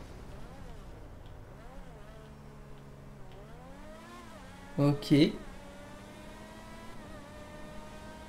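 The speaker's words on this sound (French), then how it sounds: "Wow, le bruit de la formule dans la salle" A Formula 1 car engine in a video game whines through rising and falling harmonic tones, with a louder burst of revving near the middle and a brief spoken word over it.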